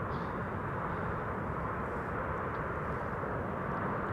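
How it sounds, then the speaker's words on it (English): A Vueling passenger airplane arriving at Amsterdam Schiphol from Barcelona gives a steady, loud broadband engine roar that holds evenly throughout without any talk. "Vueling flight 8300 arriving from Barcelona. The first airplane to arrive on the right."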